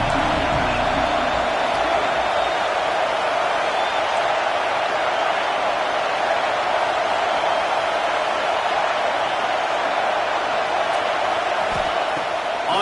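A college football crowd at USC's home stadium roars in a dense, constant, loud wash of cheering that holds unbroken, with faint commentary beneath it.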